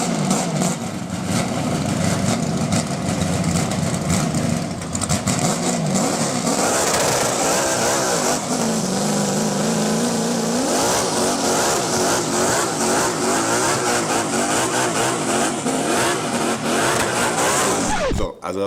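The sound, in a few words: self-built Ferrari F40 engine idling and revving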